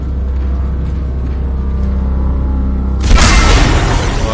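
Weapon fire in Dead Space 2 blasts in as one loud, booming shot that cuts through a low, droning game background, close and dominant, with a rumbling tail and no talking.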